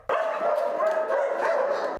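Dogs at an animal shelter in Lviv bark and yelp in a dense, continuous chorus lasting about two seconds, close and loud, several voices overlapping with no talking.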